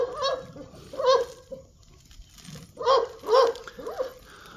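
Several sharp, harmonic barks in two clusters, loud and close, with short quiet gaps between them.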